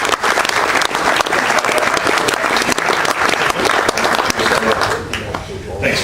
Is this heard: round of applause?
yes